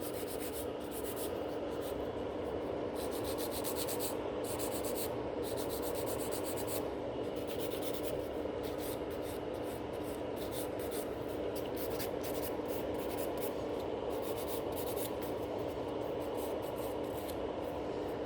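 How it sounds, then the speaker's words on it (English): A nail file scratches the surface of a natural fingernail in quick, steady back-and-forth rasping strokes, soft and close, continuing without pause and with no talking. "So I'm just scratching the surface of the natural nail and then do the same on the other nail."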